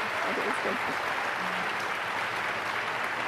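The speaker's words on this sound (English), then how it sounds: "let me do that now" Audience at a 2013 URJ Biennial session applauding its speakers, a steady, even wash of many hands clapping that fills the whole stretch without pause.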